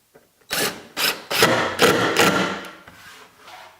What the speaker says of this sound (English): And then I will drive a screw